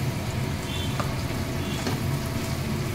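Pepper chicken with black pepper sautéing in a pan over low gas, a steady soft sizzle and faint frying crackle with occasional light stirring scrapes.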